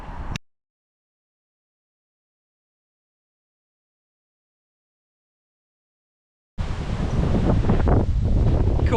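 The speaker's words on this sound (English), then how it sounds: "You probably can't hear me because of the wind." Strong wind buffeting a microphone beside a lake in winter, as a loud rushing roar in a short burst at the start, then silence, then returning loudly for the last few seconds.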